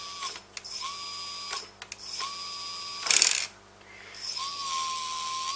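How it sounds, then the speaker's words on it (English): A brushless outrunner motor with low RPM per volt, driven by an ESC, whines up to full speed in several rising tonal bursts, with a sharp mechanical rattle as it brakes hard, heard up close. "when I put it at full speed and make the motor brake, it almost jumps out of my hand"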